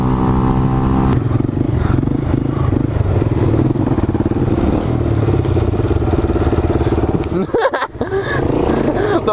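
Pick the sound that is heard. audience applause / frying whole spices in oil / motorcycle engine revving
motorcycle engine revving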